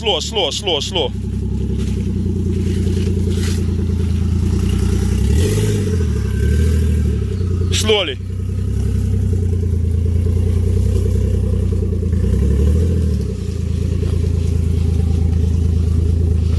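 A Lexus GS300 with a stock-turbo 1JZ engine and the exhaust removed drones loudly and continuously while driving, rising and easing in pitch with throttle, with brief voices heard over the engine noise.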